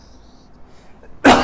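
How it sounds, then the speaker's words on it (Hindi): One short, loud, sharp cough bursts out abruptly after near silence in a physics classroom lecture, from a teacher mid-explanation. "थोड़ा खांसी हो गया है बच्चों"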